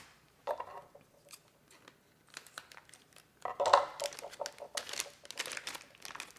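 Scissors snip and crinkle around the edge of a key lime pie crust made in a Ninja Foodi, with sparse cuts at first and then a denser run of close, crisp snips. No one speaks.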